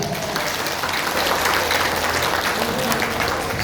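Audience applause at the inauguration of a market stall for an NU community event in Genteng, a steady dense clapping that fills the whole stretch at even loudness.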